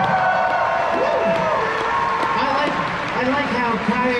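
A crowd at a dance competition cheers and whoops with scattered clapping, a loud, steady wash of noise with voices in it throughout.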